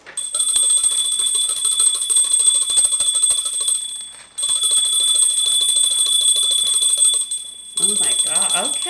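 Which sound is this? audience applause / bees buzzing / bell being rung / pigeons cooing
bell being rung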